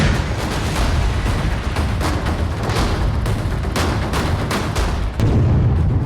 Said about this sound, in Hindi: एक ही धमाके में पूरा घर तबाह हो गया